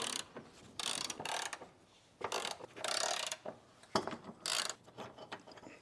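A bolt being driven in on a car subframe of an Alpina B7, giving repeated bursts of close ratcheting and mechanical clicking separated by short pauses, with no talk.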